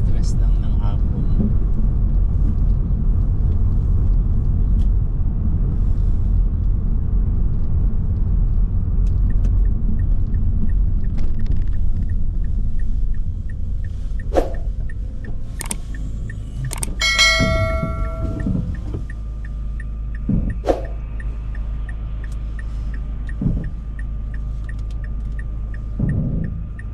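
Steady low road rumble of a car driving early on a quiet morning road, heard from inside the cabin, with a few faint clicks and chimes over it and no talking.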